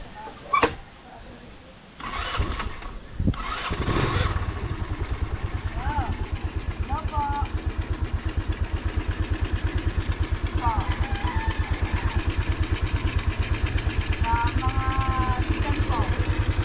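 A motorcycle engine is started with a few sharp bursts and then settles into a steady, close idle, with a rooster crowing intermittently in the background.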